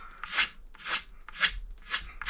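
Hand blade scraping the old finish off a guitar neck, four even rasping strokes about half a second apart, close up and alone with no talk.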